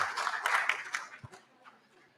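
An audience at an international congenital heart disease symposium claps for the simultaneous translators, a brief burst of applause that fades quickly, with a voice and a soft chuckle underneath.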